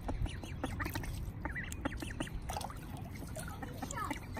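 Farm ducks squawk and quack in irregular clusters over a busy outdoor background with trickling water, close and moderately loud, and a few voices chatter softly underneath.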